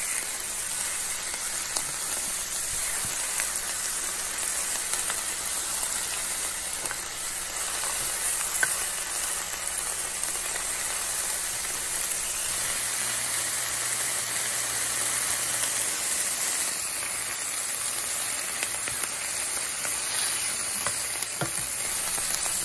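London rocket greens fry in a pan with a steady, continuous sizzle and hiss that holds at an even level for the whole stretch, close to the mic with no voices over it.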